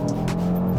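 An Audi RS3 with a dual-clutch gearbox rounds a hairpin turn, giving a brief, close engine drone with a short tire squeal over it.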